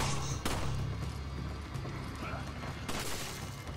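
Resident Evil 5 gameplay gunfire: a few loud sharp shots, the strongest two spaced a couple of seconds apart, over a dense, noisy game soundscape.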